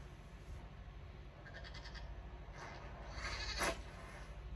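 A goat bleats in the Dragon Age Inquisition video game, tethered to a building beside a man, with faint, brief bleats over a low steady game ambience and one louder cry near the end.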